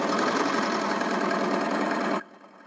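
An overlock sewing machine runs with its stitch finger engaged, a fast, even mechanical whir that stops abruptly near the end, leaving near silence.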